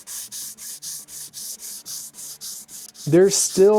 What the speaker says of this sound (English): I'm still sanding.